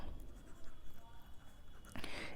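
Faint scratching of writing while working a class 12 determinants math problem, quiet and close, with soft voice traces in the background.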